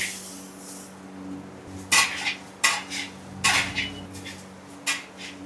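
Garam masala spices are roasted and stirred in a metal pan at a masala market, with a spoon scraping and clanking against the pan in several distinct close strokes over a low steady background hum.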